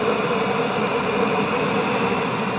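An RC jet's Biotech 220 turbine, rated at 50 pounds of thrust and mounted in the tail, runs at a loud, constant roar with a piercing high whine held steady throughout, no voices heard.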